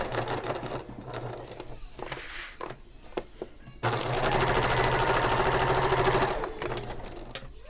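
A sewing machine runs a steady, loud burst of about two and a half seconds, stitching a guide seam one centimetre from the edge of a handbag, with a few soft handling knocks before it.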